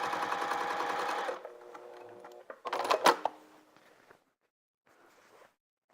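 A sewing machine runs in a fast whirring burst while stitching a holiday stocking, then stops; a few clicks and short rattling sounds of fabric handling follow, then near quiet.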